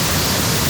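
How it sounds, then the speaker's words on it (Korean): Rushing mountain stream in a valley, swollen with heavy rain, gives a steady, dense broadband roar of water, close and continuous with no breaks. "지금 계속 여기 올라오면서 들리는 물소리가 굉장히 시원합니다"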